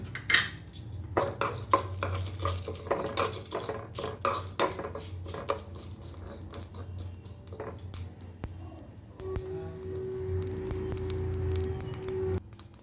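Whole spices such as cinnamon are dry-roasted in a pan, with irregular close scraping and clattering strokes that thin out, then a quieter stretch with a faint steady hum.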